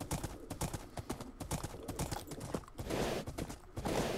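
Rapid, steady clip-clop of a horse's hooves in Minecraft plays continuously throughout, a brisk close-up trotting rhythm with a slight rushing texture later and almost no talking over it.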